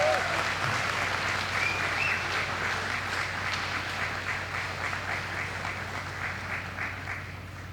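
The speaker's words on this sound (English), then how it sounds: "a big round of applause" Applause fills a banquet hall at a chamber of commerce awards dinner: a full, steady round of clapping from a large audience that fades gradually over several seconds.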